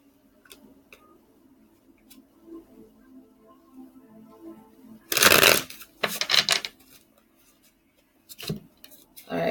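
Quiet low murmur, then several loud bursts of cards being shuffled, riffling in short bursts with pauses between them.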